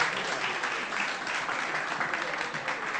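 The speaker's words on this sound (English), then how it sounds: "Give these guys a round of applause because they're shy." Audience applause at a tech happy hour finale party, a dense, even roar of clapping hands filling the room without pause, steady and fairly loud throughout.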